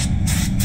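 A short burst of hissing spray from a SATA paint spray gun laying a thin coat on a Nissan Patrol, pulsing on and off twice against a low, steady mechanical hum.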